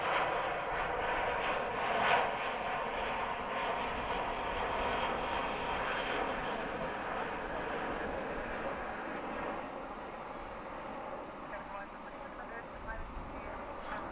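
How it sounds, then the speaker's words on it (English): An American Airlines Airbus A321 takes off at DFW International Airport, a broad continuous jet engine roar heard from a distance, steady and gradually easing, under faint background chatter. "We're going to point our camera up in the air here, because you heard that plane taking off."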